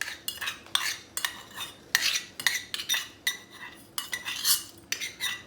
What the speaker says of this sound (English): Sorry about the scraping sound.